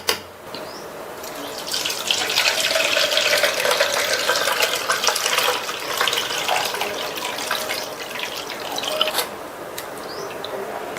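Spiced buttermilk, freshly blended, is poured through a strainer in a kitchen, giving a steady, close liquid rush and trickle that runs for about nine seconds before easing off.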